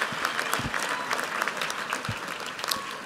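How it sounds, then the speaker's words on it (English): Audience applause at a university commencement ceremony, sustained clapping from a crowd for about three seconds, even and continuous with scattered sharper claps. "Let's give him a round of applause."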